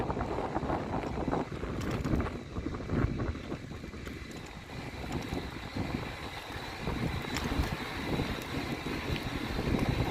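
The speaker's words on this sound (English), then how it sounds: "I don't know if you can hear me for the wind." Steady loud wind buffets the microphone throughout a bike ride through a cutting on the way to Oropesa, a continuous roaring rush with gusty swells and no voice.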